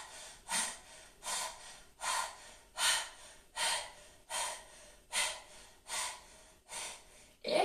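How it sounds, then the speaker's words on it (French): Slow, deep breaths during a Pilates wall exercise, with about nine evenly spaced audible inhales and exhales, close and quiet, with no other sound. "Encore 10 respirations."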